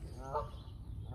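A single short goose honk rises briefly above steady low outdoor rumble, moderately close and quick.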